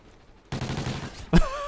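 Gunfire in a Call of Duty: Ghosts multiplayer match, a dense burst of rapid shots lasting about a second, then a loud sharp blast with a ringing tail, close and prominent with no talk over it.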